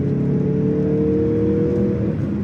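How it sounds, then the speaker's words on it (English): A Mazda CX-50 2.5 Turbo engine hums and revs steadily with a smooth, deep drone, loud and close, holding a constant pitch without pause. "It's just incredible how much it sounds like a luxury car."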